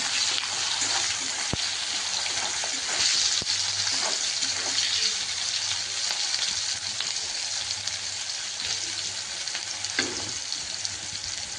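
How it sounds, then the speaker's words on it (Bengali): Onions frying in a kadai with oil and whole cardamom and cloves make a steady, close sizzle and crackle, with occasional stirring scrapes and clinks and no talk throughout. "আমি কড়াতে পেঁয়াজটা দিয়ে দিলাম পেঁয়াজটা দিয়ে লাল লাল করে ভেজে নিতে হবে"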